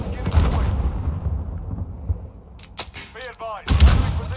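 Booming explosions and gunfire from a Call of Duty Modern Warfare match, loud rumbling blasts at the start and again near the end, with game voices talking between them.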